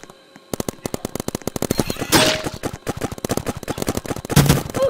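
Rapid automatic fire from a Tommy gun in the Roblox game Big Paintball, fast regular bursts of sharp cracks after a brief quiet start, loud and close, with a few louder hit or impact bursts mixed in.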